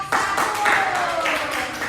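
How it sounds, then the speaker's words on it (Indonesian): A classroom group claps and applauds briefly for a student group's presentation, a dense patter of hands filling the room, with a tone sliding downward through it. "Kita beri tepuk tangan dulu untuk kelompok 1"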